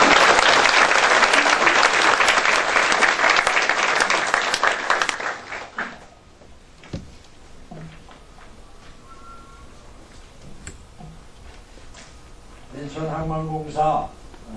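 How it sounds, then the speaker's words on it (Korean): A crowd applauds loudly for several seconds welcoming a new company president at an inauguration ceremony, the clapping then fading out, followed by quiet room sounds and brief speech near the end. "사장님 큰 박수로 맞이해주시기 바랍니다."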